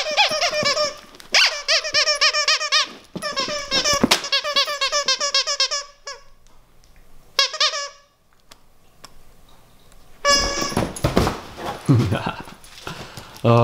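Squeaky dog toys from a subscription box squeak in quick repeated bursts as a Vizsla plays, loud and close, with a pause midway and another flurry at the end. A person talks in between.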